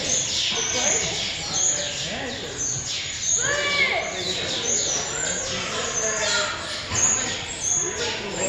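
Sparrows dyed in artificial colours chirp and tweet in short repeated calls close by, while people talk over them throughout.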